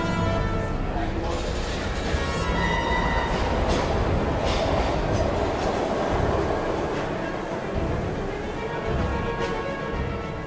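A train passes in the video game Heavy Rain, a continuous loud rumble of rolling wagons and rail noise with faint squeals, steady throughout with speech mixed in.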